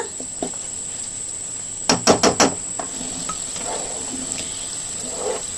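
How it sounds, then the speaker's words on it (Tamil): A short burst of scraping and clattering as baby corn is tossed with salt in a pan, four quick stirring strokes in a row, with faint background noise and a steady high whine. "உப்பை சேர்த்ததுக்கு அப்புறமா ஒரு பெரட்டு நல்லா பெரட்டி விட்டுக்கோங்க"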